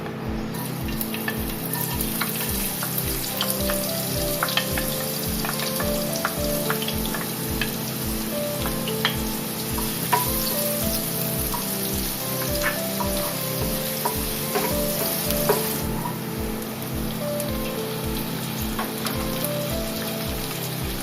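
Continuous loud sizzling of chopped onion, ginger and garlic frying in a pan, steady crackle with occasional pops and stirring, no voices.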